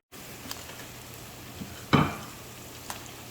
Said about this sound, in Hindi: ग्रीन चिली जो है वो हमने कट कर लिया, अब इसको मैं प्याज में डाल दूँगा।